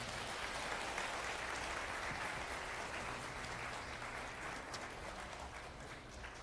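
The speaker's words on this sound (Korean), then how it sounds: "좋은 강연해 주신 김상근 교수님께 다시 한번 큰 박수 부탁드립니다" Lecture audience giving a professor big applause after a humanities talk, steady dense clapping from a large hall, fairly faint and even, tapering slightly at the end.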